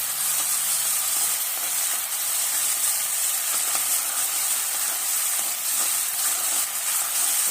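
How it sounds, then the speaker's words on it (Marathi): Onion and tomato sautéing in hot oil for a soybean curry, giving a steady, close hissing sizzle that runs unbroken throughout with no talking. "आता हे आपल्याला एक दोन मिनटं असं परतून घ्यायचं आहे"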